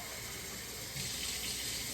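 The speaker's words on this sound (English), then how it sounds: "I guess I'll turn my sink on hot" A kitchen sink tap runs hot water in a steady broadband rush that grows a little louder halfway through, with no voices over it.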